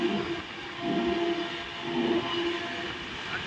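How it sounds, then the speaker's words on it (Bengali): A passenger train on the Kolkata to Prayagraj route runs at about 96 km/h, giving a steady loud rumble with swelling rhythmic surges of wheel and carriage noise. "আর এখন 96 কিলোমিটার বেগে ট্রেন ছুটে"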